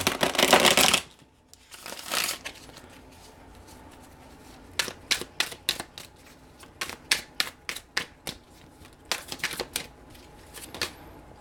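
A tarot deck is shuffled in a quick riffling burst, then cards are snapped and flipped onto a surface in a series of sharp close clicks and slaps, some in rapid runs; no talking.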